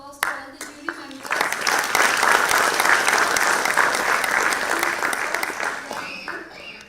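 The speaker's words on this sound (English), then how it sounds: "A huge round of applause to all the jury members." At an automation and data science awards ceremony, an audience breaks into sustained applause for the jury members, dense clapping swelling after a brief opening and tapering off near the end, with a voice briefly heard before it.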